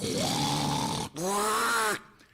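A voice imitates a dog's snoring with two drawn-out, rumbling snorts, close and loud, separated by a brief pause.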